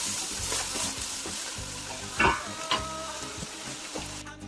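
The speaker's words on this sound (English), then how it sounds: "you're going to saute this on medium heat for about 5 minutes" Onions and spices, including garam masala, cumin, coriander powder, cardamom and turmeric, saute in a pan over medium heat, giving a steady close sizzle with a few sharper stirring scrapes and clinks.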